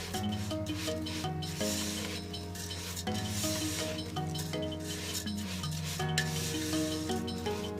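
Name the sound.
vermicelli frying on medium flame, stirred with spoon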